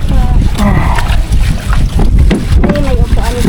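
A small boat moves across open water with steady sloshing and wind buffeting the microphone, loud and close, while people talk over it.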